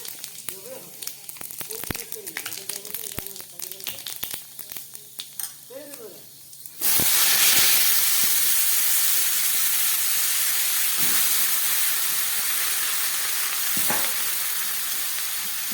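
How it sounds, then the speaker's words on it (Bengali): Bengali five-spice seeds hit hot oil during vegetarian radish cooking, bursting into a loud, dense, continuous sizzle after a stretch of quieter kitchen noise and speech. "এবার এই গরম তেলের মধ্যে আমি একটু ফোড়ন দেব"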